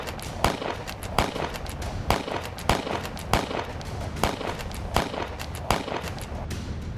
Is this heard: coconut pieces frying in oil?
no